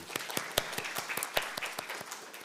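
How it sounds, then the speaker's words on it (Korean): A small audience at a Lenten weekday Mass claps during a homily, giving scattered, uneven handclaps that pop out individually rather than merging into a roar. The sound is moderately close and fairly soft, and no voice rises above it. "박수 한번 줍시다."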